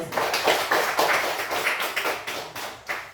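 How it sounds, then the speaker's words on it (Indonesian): A class of schoolchildren clapping hands together in a classroom during a Catholic religious education lesson, a steady run of close, sharp claps lasting a few seconds with no talking. "Oke, tepuk tangan dulu."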